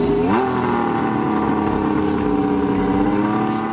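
An old Honda six-cylinder racing motorcycle engine revs up sharply, then settles into a smooth, loud, steady high-pitched howl, heard up close with no talking.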